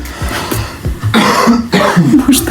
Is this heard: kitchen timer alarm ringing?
no